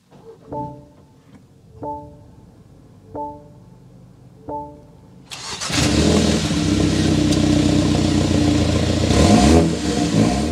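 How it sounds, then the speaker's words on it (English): A 2024 BMW X1 xDrive28i is heard: four short chimes repeat at a steady pace, then the engine cranks and fires at about five seconds. A loud, sustained idle and exhaust note follows, close by, with no talking. "start it up, so you can hear that exhaust note."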